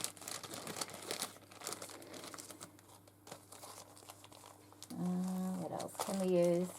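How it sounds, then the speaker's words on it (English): Scrap materials and old lace being rummaged through nearby, giving soft crinkling, rustling and crumpling while a person talks over it. "I love ruffling through all this stuff."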